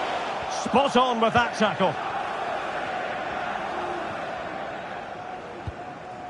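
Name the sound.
stadium crowd in the video game EA Sports FC24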